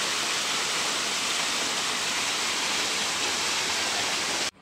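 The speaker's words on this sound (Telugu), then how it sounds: "సో వాటరింగ్ చేస్తున్నారు డైలీ, ఆ టైంలో మొక్కలకి నీళ్ళు పెడతారంట వాళ్ళు" Evening watering of garden plants at the Leonia resort makes a steady, even hiss of spraying water, close and constant, cutting off abruptly at the end without any voices.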